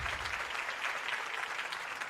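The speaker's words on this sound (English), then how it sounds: "That's a round of applause for you." A round of applause, steady clapping from a small group heard fairly faint and even, without any voices over it.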